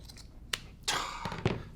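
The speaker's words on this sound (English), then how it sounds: "So I can cut it like this with my micro serrated scissors." Micro serrated scissors cut through fabric strips in a few short, quiet snips with gaps between them, with no voices.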